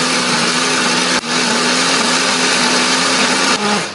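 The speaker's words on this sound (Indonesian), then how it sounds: "Ini bahan akan kita blender." Kitchen blender grinding candlenut, garlic, shallots and turmeric into a paste, a loud, steady close whir with two brief dips in motor pitch as the blades bite.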